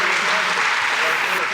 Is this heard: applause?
yes